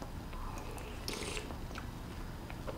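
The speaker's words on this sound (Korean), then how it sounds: "통통통통 씹는 재미도 있고요." Close, crunchy chewing of freshwater shrimp from a Korean shrimp stew with hand-torn dough flakes, a steady run of soft bites and mastication with no talking.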